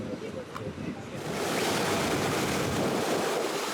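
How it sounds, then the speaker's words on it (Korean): Surf breaks on the beach at Mykonos, Greece, below the windmills, with wind. The wash starts softer, then swells into a loud, continuous roar of churning water. "바닷가의 파도 소리"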